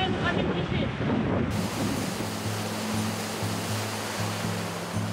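Rough ocean waves break on a shore where rods are staked for fishing, a loud continuous roaring wash of surf with low rhythmic surges.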